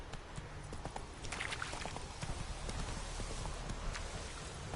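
Hooves of the horse Roach clip-clop in a steady quick rhythm in The Witcher 3, a continuous run of close, crisp hoof strikes with a faint ambient wash behind them.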